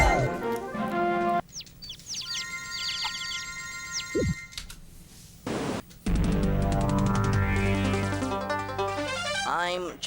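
Cartoonish chicken clucks and chirps from the video game Mort the Chicken sound amid busy game music and effects, with bursts cutting in and out and a louder stretch toward the end.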